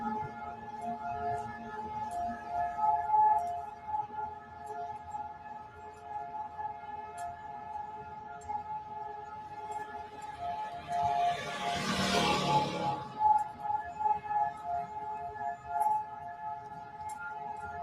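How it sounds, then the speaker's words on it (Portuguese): A memorial siren in Israel wails in the distance, steady and faint for most of the stretch, then swells into a louder, broader surge near the end before easing back. "mostrando um pouco dessa sirene tocando"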